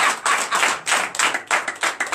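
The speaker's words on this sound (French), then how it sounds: "Donnez l'acclamation de Jésus." A church congregation claps in acclamation during a night deliverance service, loud close rhythmic handclaps in quick bursts of roughly four per second.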